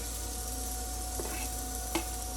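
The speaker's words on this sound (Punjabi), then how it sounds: "ਹੁਣ ਅਸੀਂ ਹਰੀ ਮਿਰਚ ਪਾਵਾਂਗੇ ਜੀ" Green chilies hit hot oil in a pan while cooking baingan bharta, giving a steady soft sizzle with a couple of brief scraping stir sounds.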